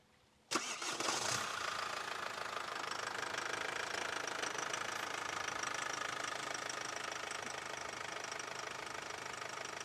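A Chevrolet Cruze diesel engine cranks and catches with a sudden burst, then settles into a steady, rattly diesel idle that runs on evenly.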